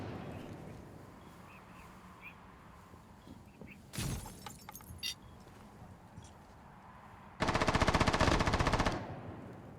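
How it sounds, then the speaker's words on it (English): Video game standoff gunfight with bursts of gunfire: a short volley near four seconds, scattered shots after, then a loud sustained rapid burst of automatic fire around eight seconds over steady background noise. "They're in the middle of a standoff gunfight."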